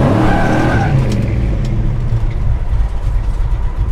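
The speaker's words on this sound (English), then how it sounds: "first thing we're going to do is warm up the tires a little bit." A 1961 Pontiac Catalina with a 421 engine and four-speed spins its tires to warm them, a loud, sustained screech of tire squeal over a roaring engine, close and continuous.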